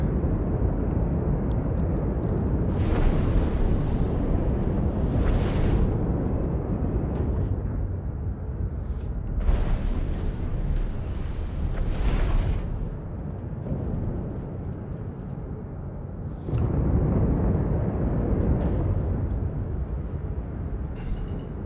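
A spaceship in Star Citizen sets down at a station, a continuous deep engine rumble with several swelling thrust surges and whooshes, steady and fairly loud throughout.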